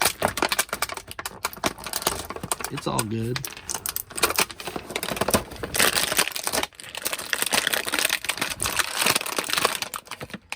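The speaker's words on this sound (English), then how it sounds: "if you don't like the crinkly, cracky noises, let me know." Crinkly plastic packaging around a Masterverse He-Ro action figure is handled up close, with dense crackling and crumpling throughout while someone speaks briefly.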